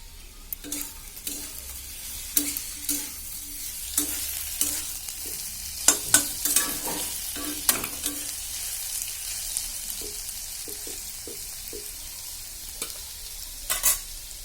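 Ripe red chillies and ground spices fry in a pan with a soft continuous sizzle, punctuated by frequent scraping and tapping strokes of a stirring spoon that come in uneven bursts throughout.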